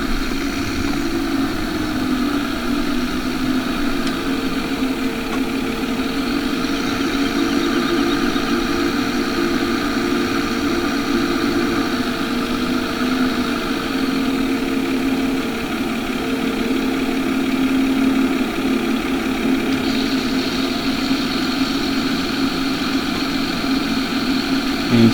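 A Teddon tractor's engine idles steadily nearby, a continuous low rumble with a faint higher whine that holds an even level throughout, with no voices.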